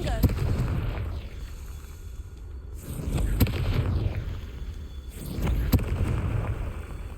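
Blasting-spell explosions in the video game Hogwarts Legacy burst in a few loud booming hits with rumbling decay, spaced a couple of seconds apart, under a voice.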